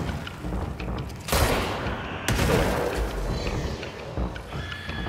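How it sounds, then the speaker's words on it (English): A chain gun fires in rapid bursts during combat in the video game Control, dense loud rattling fire with sharp cut-offs between bursts and no talking. "Big chain gun there."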